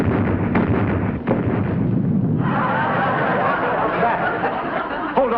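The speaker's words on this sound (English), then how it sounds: "I think a fuel drum exploded." A fuel drum explodes as a sound effect in a vintage TV sitcom scene at a base under attack. A continuous rumbling roar and crackle runs the whole time, with the texture shifting partway through, under a noisy crowd-like bed.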